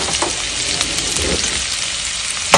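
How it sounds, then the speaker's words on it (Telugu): Onions frying in ghee give off a loud, steady sizzle with a few soft stirring touches and a sharp knock near the end. "సో ఆనియన్స్ కొంచెం ఫ్రై అనిద్దాం ఘీలో."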